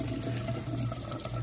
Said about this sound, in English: And you just rinse it off.